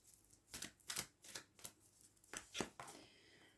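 Tarot card drawn from a deck, heard as a run of quiet, close papery slides and flicks in a soft rhythmic sequence that ends with a short final shuffle.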